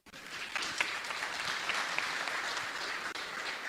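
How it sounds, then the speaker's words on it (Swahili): A seated audience at a business and trading masterclass breaks into sustained applause, a dense steady wash of clapping that starts abruptly and holds evenly throughout. "Tumpigie makofi"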